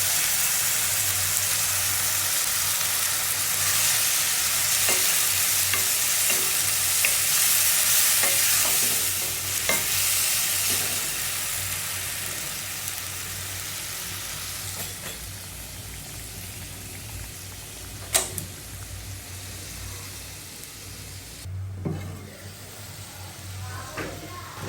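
Garlic paste fries in a pan while a spoon stirs it, a continuous crackling sizzle with repeated scraping strokes and occasional knocks against the pan, gradually quieting toward the end.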